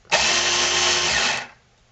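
A cordless 3/8-inch drive electric ratchet, held in a vise after repair, whirs up loudly with a steady high-pitched motor whine for over a second, then spins down and stops.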